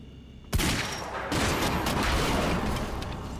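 Gunfire in Quantum Break, a sharp loud shot followed by a second blast and a sustained roaring, crackling wash of noise, with no talk over it.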